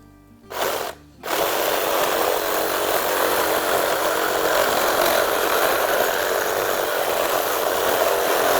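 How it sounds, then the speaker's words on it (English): A reciprocating saw cutting through a deer skull between the eye orbit and antler burrs starts with a short burst, pauses briefly, then runs as a continuous loud buzzing grind to the end. "we'll use a reciprocating saw or just a hand saw, whatever you have"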